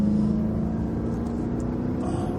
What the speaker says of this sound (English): the sound of this engine is just perfect